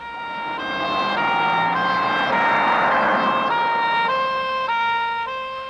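Siren of a Land Rover Series 3 fire appliance wails in a steady two-tone cycle, loud and close, alternating pitch roughly every half second with no voices.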